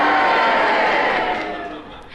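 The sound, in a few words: studio audience cheering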